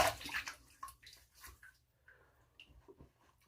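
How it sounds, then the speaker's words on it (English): A shaving brush is dipped into water at close range, making a splashy slosh and trickle at first, then fainter, scattered drips and small wet squelches. "So I dipped my brush into the water."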